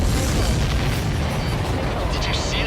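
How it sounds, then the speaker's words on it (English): Heavy explosion of a supply ship in the air-combat video game Ace Combat 7, a loud, rumbling boom that rolls on with crackling debris through the short stretch. "Did you see that explosion?"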